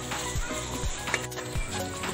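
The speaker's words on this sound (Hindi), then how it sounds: "पांच मिनट तक मसाले को अच्छे से भून लो।" Masala spices for chicken masala fry steadily in a hot pan, a continuous close sizzle broken by a few rhythmic scrapes of stirring.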